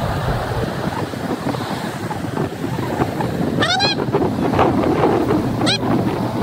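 Strong sea waves at a beach roar and wash continuously under heavy wind buffeting the microphone, loud and close, with faint distant voices and brief squeaky cries on top.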